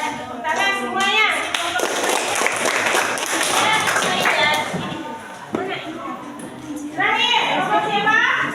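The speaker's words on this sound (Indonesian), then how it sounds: "Tepuk tangan semuanya." Classmates clap for a student group after a presentation in a classroom, a scattered round of clapping mixed with children's chatter and a teacher's voice, with thumps and shuffling nearby.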